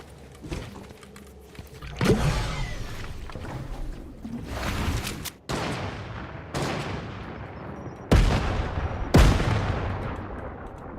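Grenade explosions and gunfire in a video game: about five sharp, loud blasts, each decaying into a rumbling tail, spaced unevenly over eleven seconds with crackling shots between them.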